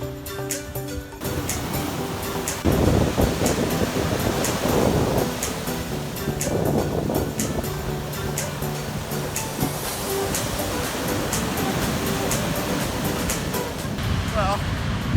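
Ocean waves and surf wash and rumble continuously near a surfer out in the water, with wind buffeting the microphone and a voice occasionally speaking over the roar.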